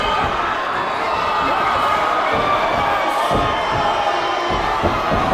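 Crowd at a PPW pro wrestling show cheering and shouting, a loud continuous roar of many voices filling the hall.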